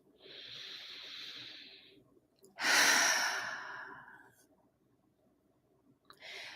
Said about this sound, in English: And let's breathe.